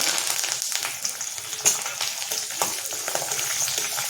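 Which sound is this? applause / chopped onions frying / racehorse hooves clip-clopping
chopped onions frying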